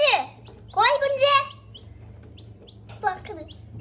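Small chicken chicks chirping in a home setting, bright high peeping calls in short bursts with pauses, fairly close, with a faint low hum underneath.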